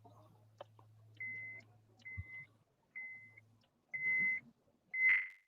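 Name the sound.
beeping on a phone call line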